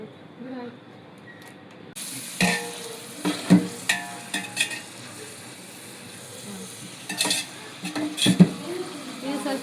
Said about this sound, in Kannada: ಇದು ಸ್ವಲ್ಪ ಫ್ರೈ ಆಗೋದು ಬಿಡ್ತೀನಿ.